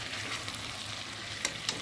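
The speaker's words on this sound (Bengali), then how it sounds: "চিকেনটা কষানো হয়ে এসেছে আর চিকেন থেকে তেলও ছাড়তে শুরু করে দিয়েছে।" Chicken pieces sautéing in released oil in a pan for a light chicken curry, a steady close sizzle with two brief clinks of a stirring utensil near the end.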